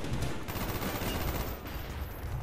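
Dense, continuous automatic gunfire fills a Call of Duty Black Ops match, loud and relentless with rapid overlapping shots throughout.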